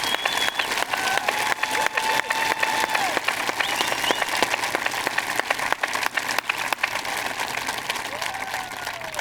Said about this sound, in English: Please join me in a round of applause for this Pride of Lions, Lackawanna Trails Class of 2022.